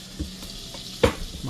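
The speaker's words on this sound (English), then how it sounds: "my butter is getting hot" Butter heating in a cast iron skillet gives a soft, steady sizzle with a couple of brief stirring or scraping bumps, one sharper clack near the end, close by and with no talk.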